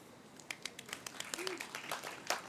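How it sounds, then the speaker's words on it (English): Scattered clapping from a small audience at a Melbourne Design Week panel talk on water, energy and food, sparse separate claps building unevenly, quiet and a little distant, with a brief voice mixed in. "We're rating them on how loud the applause is before they even speak."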